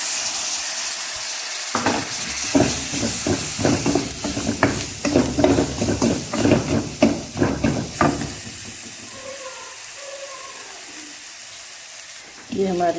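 Potato-naan filling sizzles in a pan with lemon juice added, a steady fry with rhythmic scraping stirs through the middle, then quieter hissing near the end.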